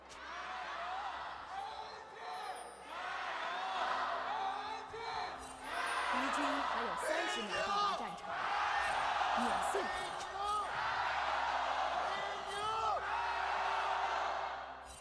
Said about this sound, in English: Crowd feels electric in Xi'an